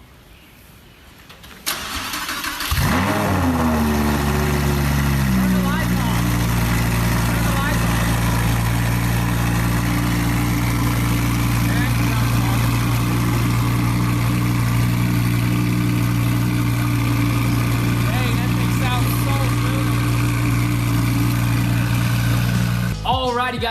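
A Lamborghini Huracan fitted with a new exhaust cranks and fires up loudly, then settles into a steady, deep, rumbling idle that holds close and continuous for the rest of the clip.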